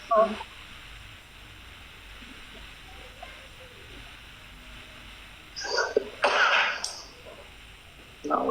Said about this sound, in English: Now the cough.